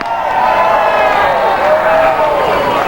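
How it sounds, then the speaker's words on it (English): Baseball crowd at a York Revolution vs. Somerset Patriots minor-league game cheering after an umpire's strike call, a steady, loud wash of distant fans' voices and whoops filling the whole stretch without breaks. "they cheer after he makes that strike call"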